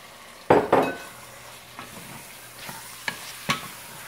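Chicken frying in oil is stirred for biryani, a soft background sizzle broken by a few sharp scraping and clinking strokes of a utensil against the pan, the loudest near the start and then lighter taps, quiet and close.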